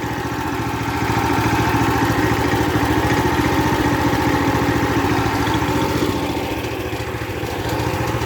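A 420cc Predator go-kart engine idles close by with a steady, rapid chugging putter that holds an even rhythm throughout, loud and alone without any talk.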